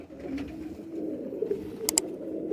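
Black-faced pigeons and Battery pigeons coo softly in a low, steady murmur, fairly faint and close by, with a brief sharp click or flutter near the end.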